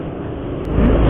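A Hero Xtreme 160R BS6 motorcycle rides in first gear, its smooth engine a steady low rumble mixed with wind noise that swells louder near the end.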